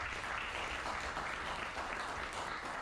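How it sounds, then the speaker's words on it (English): An audience at a Jeep club meeting gives a round of applause, a dense and steady burst of clapping heard from a little distance, with no voices over it. "Give yourself a round of applause."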